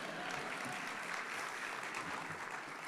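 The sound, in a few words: audience applause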